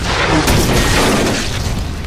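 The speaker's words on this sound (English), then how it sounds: "that's an anti-tank rifle" A heavy anti-tank rifle firing in a video game, one loud, booming blast with a crackling, shattering tail that fills the short moment and decays slowly.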